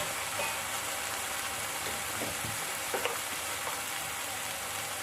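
Ground coriander, turmeric and red chili powder fry in hot oil for a vegetable egg kadhi, giving a dense, even sizzle close by. Faint scrapes of stirring sound underneath, and no one speaks.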